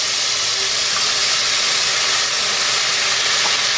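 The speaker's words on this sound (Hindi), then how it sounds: "ये अदरक फ्राई हो रही है" Ginger and sliced strawberries fry in a hot pan with oil, making a loud, continuous, close-up sizzle and hiss that holds steady throughout, with no voices.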